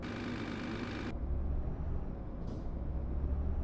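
A heavy truck in Euro Truck Simulator 2 pulling away in forward gear, a hiss of air release cutting off, then a low rumbling engine with a brief puff of air.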